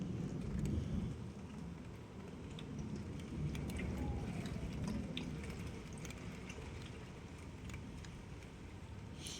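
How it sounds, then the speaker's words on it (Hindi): Heavy rain pouring steadily outdoors near a rooftop, a dense broadband wash with scattered patters and drips, continuous and fairly loud throughout with no one speaking. "बारिश तेज है, बिल्कुल तेज बारिश है।"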